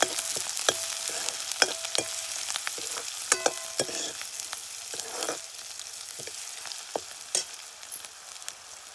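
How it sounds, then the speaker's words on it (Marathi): Finely chopped onion fries on cumin in a pan over a traditional chulha, a low, steady sizzle broken by frequent sharp clicks of a spatula stirring, with no one talking. "बारीक चिरून घेतलेला कांदा आहे तो त्याच्यामध्ये टाकते। कांदा लालसर मस्त परतून घ्यायचा आहे।"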